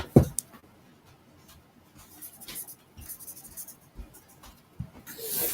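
A pen scratches across paper in short strokes as hardcover books are signed, with light shuffling and a few soft knocks between signatures, close and fairly quiet.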